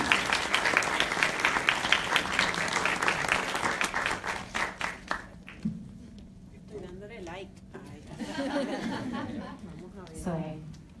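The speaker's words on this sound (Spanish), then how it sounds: "Un fuerte aplauso para ellas." Audience applause for guests at a Spanish-language talk event, a few seconds of lively clapping that fades out as voices take over, with some chuckling and speech afterward.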